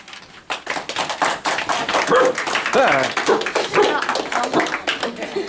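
A small audience claps after a girl's speech on training her dog, with a quick run of hand claps building and continuing at close range, and voices talking over the clapping.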